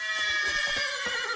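A horse whinnies in The Witcher 3: Wild Hunt, a drawn-out neigh lasting over a second that rises and fades, set against steady game music and ambience.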